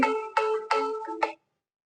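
A phone ringtone plays a short melodic phrase of four bright tonal bursts, loud and close, then stops into silence.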